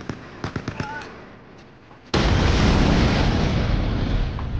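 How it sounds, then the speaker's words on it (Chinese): Grenade explosion in a war film about the Soviet-Finnish Winter War: a few scattered distant pops and thuds, then a sudden, very loud blast that becomes a sustained roaring rumble through to the end. "注意看士兵手里拿着像似雷神之锤的手榴弹，躲过射击埋伏在石头后，看准时机，双手投出"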